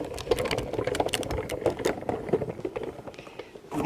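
A crafting die-cutting machine feeds a die back and forth, making rapid mechanical clicking and whirring bursts that stay close and fairly loud, with no voices.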